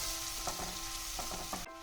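Onion fries in hot oil with a dense, steady, close sizzle, cut off abruptly near the end.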